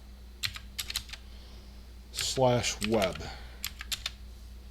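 Fast, crisp key taps on a computer keyboard come in short bursts, while someone speaks briefly near the middle; a low steady hum sits underneath.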